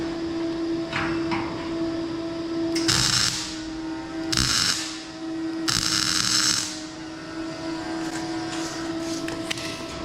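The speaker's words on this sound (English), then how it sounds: "I'm just going to have to put my helmet on to weld this bit here." Steel tube being tack welded: short bursts of harsh crackling, sizzling arc noise, several in a row with pauses between, over a steady electrical hum, close up and with no talking.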